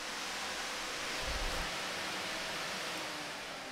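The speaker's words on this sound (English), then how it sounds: "So that will give me pump, fan, fan." An electric CWA400 water pump and two cooling fans run together in a supercharged SLK320, giving a steady, broad whooshing hum that holds at an even level throughout, close by and with no talking.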